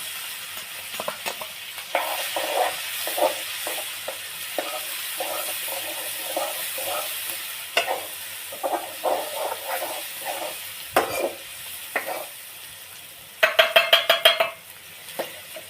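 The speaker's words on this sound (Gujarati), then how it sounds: "તેલ આવી ગયું એટલે ડુંગળી પણ નાખી દઈએ" Onions drop into hot oil in a pan for a Kathiyawadi village-style vegetable dish, sizzling steadily while a spoon scrapes and stirs against the metal in an irregular rhythm, ending with a brief burst of clattering.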